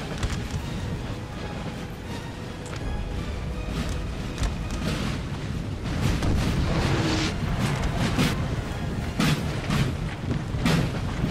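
Artillery fire booms repeatedly across a Napoleon: Total War battlefield as cannons are shifted into position, dense overlapping thuds and rumbles continuing steadily with no gaps, moderately loud and distant-sounding.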